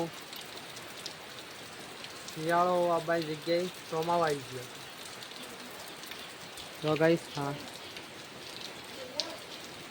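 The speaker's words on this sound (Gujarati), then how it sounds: "ફૂલ વરસાદ આવી ગયો" Heavy rain pours with a constant hiss throughout on a Gujarat farm, while a person speaks in short bursts over the downpour.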